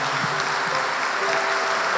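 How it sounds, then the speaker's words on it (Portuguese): A church congregation applauds during a Catholic homily, a steady dense wash of clapping hands that fills the whole stretch without letup, with no talking over it. "eu acho que você está aplaudindo"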